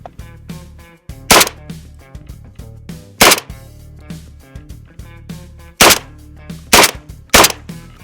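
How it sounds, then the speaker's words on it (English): Federal low brass birdshot shotgun shells fired in a series of loud, sharp blasts, some spaced a second or two apart and others in quicker succession, each blast followed by a brief decay. "let's try the Walmart Federal. Again, this is low brass, birdshot"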